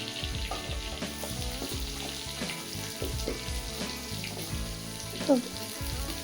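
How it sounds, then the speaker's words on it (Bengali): Garlic frying in oil in a home kitchen for Bengali ghugni, a steady close sizzle running throughout with a few clinks of a stirring spoon and no talk. "রসুনটা ভাজা ভাজা হয়ে গেছে"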